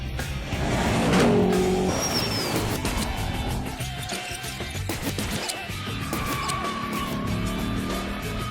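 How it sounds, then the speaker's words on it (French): An American V8 in a Ford Mustang rumbles close and loud, with a rough, pulsing roar that swells early, then settles into a steady throaty idle. "Vous entendez ce bruit de moteur,"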